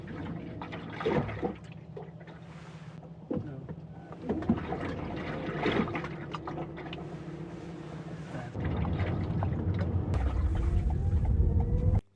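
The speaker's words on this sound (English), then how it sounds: "when I brake the car, the water was moving and it was a splashing sound inside it" Water sloshes and splashes inside the door of a 2019 Toyota Corolla while driving and braking, irregular liquid surges over a continuous road and engine rumble that grows louder near the end, no talk.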